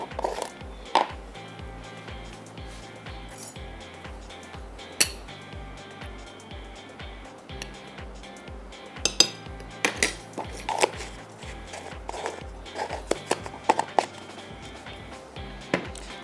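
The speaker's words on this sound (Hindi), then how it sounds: "और आप क्या करेंगे, इसको मिक्स करेंगे।" A utensil stirs cream in a bowl with quick, rhythmic scraping and light clinking taps, close by and fairly quiet, with a few sharper knocks against the bowl's side.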